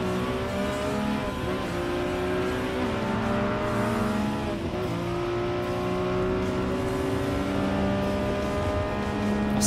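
Ferrari engine in Gran Turismo, a steady loud revving drone with layered harmonics held throughout, slight pitch dips as it shifts, no voices over it.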